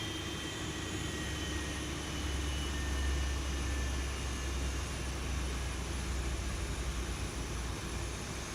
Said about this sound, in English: because I started the APU again